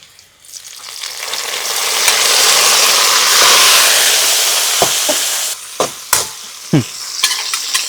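Dried red chillies frying in hot oil for a spicy quail gravy: a steady, bright sizzle that swells and then eases, with a few sharp clinks and scrapes of a stirring spoon against the pan toward the end.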